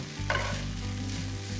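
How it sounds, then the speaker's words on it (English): Tater tots fry in a pan, giving off a steady, close sizzle with a brief scrape of stirring near the start. No one talks. "our tater tots are looking like they are ready to come out of the pan"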